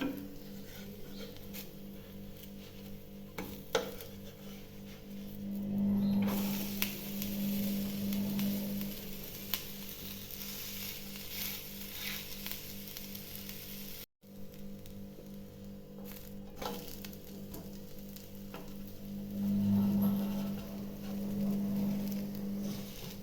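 A spicy rice flour dosa with chili powder frying on a hot pan, giving a steady close sizzle that swells and eases at times, with a few light clinks and scrapes and no talking.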